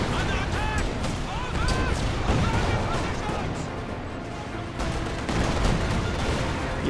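Gunfire and artillery from Company of Heroes 2, World War II strategy gameplay, with sharp shots and booming impacts crackling continuously while a voice talks over the battle.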